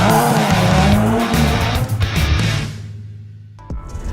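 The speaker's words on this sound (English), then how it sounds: "this is my Bmw M235i." BMW M235i with a 3-liter turbocharged inline six driving hard, engine note rising and falling with tire squeal, loud and close, easing off near the end before a brief burst.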